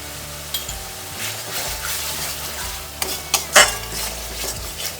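Spice masala fries in a pan with a spoonful of ghee, giving a steady close sizzle as a spoon stirs and scrapes, with a few sharp clinks of metal against the pan.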